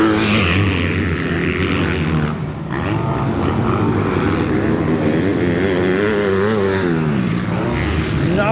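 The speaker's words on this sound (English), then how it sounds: "so Seth Birchall, 1 lap to go for the Yamaha Racing Team rider." Several 250cc motocross bikes scream around a Junior Lites race circuit, their engines loud and continuous, revving up and down in overlapping waves with no speech heard.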